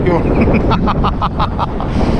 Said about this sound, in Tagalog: Kaya malakas ang hangin natin ngayon